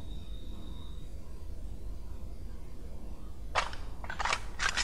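Shots ring out in The Last of Us multiplayer on the Capitol map, a sharp burst of three or four loud cracks spaced close together over a steady hiss of background noise.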